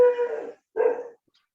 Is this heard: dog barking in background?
yes